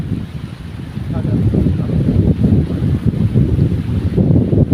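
Strong wind roars and buffets the microphone in a steady, low rumble, with faint hints of water beneath it.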